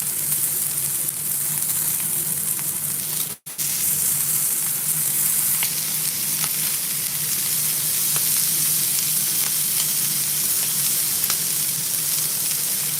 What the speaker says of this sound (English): while this is sizzling